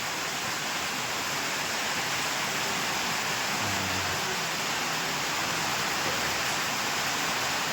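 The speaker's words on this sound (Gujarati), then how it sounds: "સવારમાં વરસાદ ચાલુ થઈ ગયો ભાઈ જુઓ" Morning rain pours steadily outdoors near a garden, a dense, even hiss that holds at the same loudness throughout with no voices.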